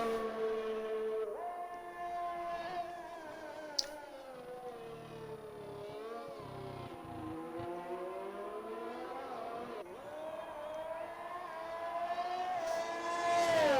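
Formula 1 race cars at Spa in the F1 2021 video game, a high-pitched engine wail rising and falling through gear changes, sustained and close throughout.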